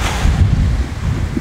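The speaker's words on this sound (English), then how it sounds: "It's a bit windy, but that's why there's a mouse on the mic." Strong wind buffets a microphone fitted with a furry windscreen outdoors on Darocotan Island in Palawan, Philippines, giving a steady, loud low rumble and roar through the whole short stretch, with no voices.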